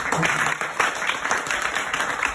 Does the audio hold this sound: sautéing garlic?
no